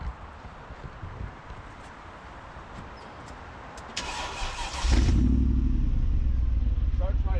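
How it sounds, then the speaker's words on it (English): A Mercedes-AMG G-Wagon engine cranks briefly and catches, jumping to a loud, steady idle after quieter background sound, with a voice talking earlier. "let's go ahead and fire it up while we're here"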